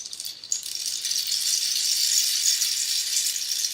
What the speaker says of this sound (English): Rainmaker. Why did I use it? Because it's like also made from bamboo.